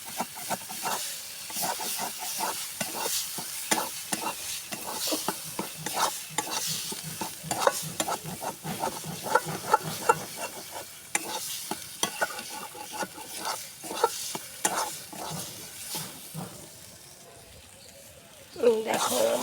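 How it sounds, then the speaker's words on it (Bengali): Spice paste frying in oil in a kadai, a close crackling sizzle with busy stirring and scraping throughout, easing briefly before a louder burst of hiss near the end. "এবার মশলাটা ততক্ষণ কষাবো যতক্ষণ মশলার গায়ের থেকে তেল না ছেড়ে দেয়।"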